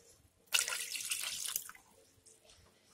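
Water is poured into a cooking pot for turkey neck soup in a home kitchen, a single splashing pour of about a second, fairly close, then quiet.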